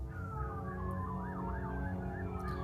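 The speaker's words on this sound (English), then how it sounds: "Why is there sirens?" Police sirens wail outside a house, a fairly loud, continuous wavering siren tone that sweeps up and down steadily with no voices over it.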